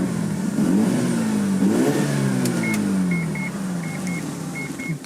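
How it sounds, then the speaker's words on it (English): A 1999 Mazda RX-7 Type R rotary engine revs up and falls back twice in quick succession, loud and near, followed by idle as a warning chime beeps repeatedly before shutoff. "a rotary, we like to give it a little rev before we turn it off"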